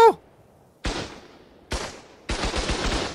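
A minigun turret in ARK: Survival Evolved fires in three bursts, each a sharp loud rattle of rapid shots separated by brief quiet gaps, the last burst longer and sustained.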